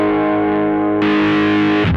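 A Telecaster guitar is played through a Pigtronics Distortion micro pedal into slightly dirty amps, giving a sustained, buzzing distorted chord that is struck again midway and rings loud and close before a final change.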